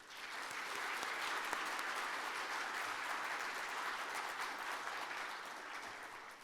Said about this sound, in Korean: 오늘의 시상식을 위해 지금 무대에 자리하고 계신 수상자분들께 우리 따뜻한 축하의 박수 보내드릴까요